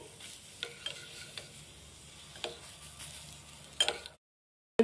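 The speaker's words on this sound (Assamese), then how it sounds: "এনেদৰে আৰু চামুচেৰে লৰাই আছোঁ এইটো আৰু অলপ ঘন কৰি ল'ম" Homemade cough syrup thickening in a heated pan is stirred with a spoon, giving soft scraping clicks and a faint low bubbling sizzle that stop abruptly near the end.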